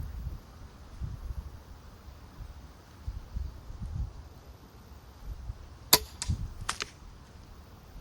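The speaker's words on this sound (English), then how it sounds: "The bolt obviously went very close to the target because I could hear it on the GoPro" Quiet outdoor wind rumble, then a sudden sharp crack and a couple of quick whooshing zips as a bolt from a BearX Desire XL pistol crossbow flies closely past a target 52 meters away.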